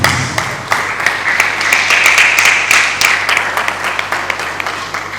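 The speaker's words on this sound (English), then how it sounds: "a round of applause for all Ago-Iwoye indigenous" An audience at a book launch event in Ago-Iwoye claps for the town's indigenous people, a lively, fairly close round of applause with distinct individual claps standing out over a steady patter that slowly thins.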